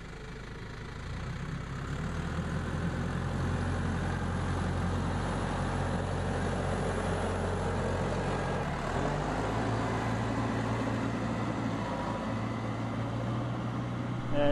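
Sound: farm tractor engines idling

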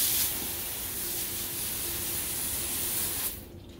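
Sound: water spraying to rinse soap out of a dog run

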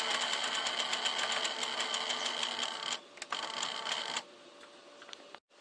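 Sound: sewing machine edge stitching fabric underlap

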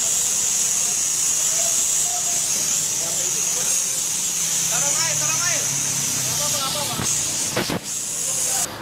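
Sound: gas hissing from a leaking gas cylinder

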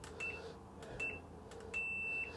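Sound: long beep from BioBidet bidet toilet seat switching off

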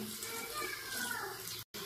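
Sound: tap water running while child washes hands

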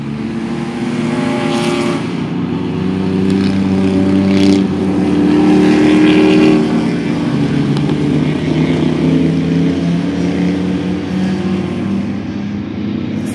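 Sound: turbocharged Mazda Miata race car at track turn

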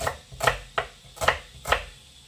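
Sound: chopping onion with a knife

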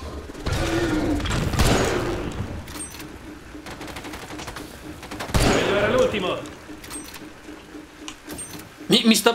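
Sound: gunfire in The Bureau XCOM Declassified video game

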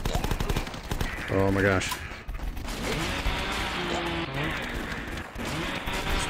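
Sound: gunfire from the video game The Last Stand 2

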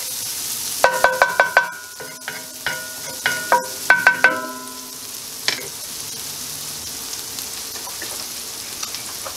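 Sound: shallots sweating in a cast iron skillet

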